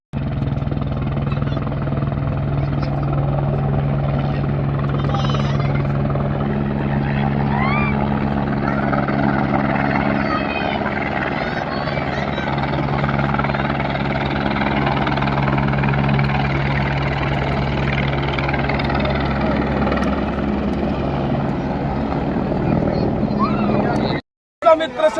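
A helicopter idles steadily on an airfield ground in Buxar before a flower-showering flight at Ramrekha Ghat, its loud, continuous rotor and engine drone filling the scene while people talk, then cutting off abruptly near the end.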